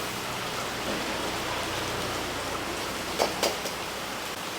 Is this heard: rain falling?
yes